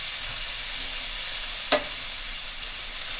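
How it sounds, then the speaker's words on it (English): Herbs sauté in a hot pan for Jamaican curry fish, giving a steady, close, even sizzle throughout with one brief clink partway through and no talking. "these herbs are potent, so you have to like saute them for a while to get rid of some of the strength from it"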